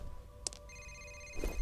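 Telephone ringing in the horror shooter F.E.A.R., a steady electronic tone that starts partway through and holds, with a brief thump before it and another near the end.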